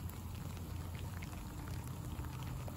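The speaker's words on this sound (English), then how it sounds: "It's raining pretty good." Rain falling steadily outdoors during an ice fishing outing, a dense continuous patter with no pauses, close and fairly loud, with no voices over it.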